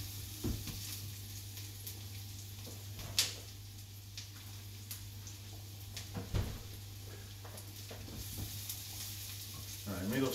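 Quiet sizzling of onions and garlic frying in a pan, with occasional stirring scrapes and clicks against a low steady hum.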